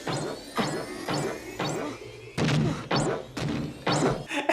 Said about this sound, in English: And there's like cartoon sound effects.